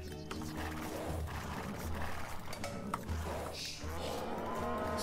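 A cow lows in Age of Empires 2, a few low, drawn-out moos repeating at a moderate distance over faint mechanical clicking and other game sounds.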